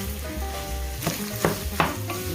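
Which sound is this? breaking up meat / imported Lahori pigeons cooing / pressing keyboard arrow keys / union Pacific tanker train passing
breaking up meat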